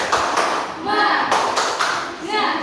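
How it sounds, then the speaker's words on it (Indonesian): A classroom audience claps for a discussion group, a few hands producing uneven, close claps mixed with thumps and shuffling, while people talk over the clapping. "Tepuk tangan dulu untuk kelompok 3"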